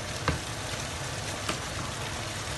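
Spinach cooks in a pan with a steady, moderate frying hiss. A couple of faint clicks stand out against the sizzle, and no one talks.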